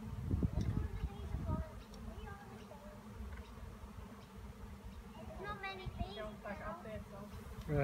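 Buzzing of a honeybee swarm being removed, a thin insect drone running under nearby voices and children talking, with occasional louder handling bumps close to the microphone.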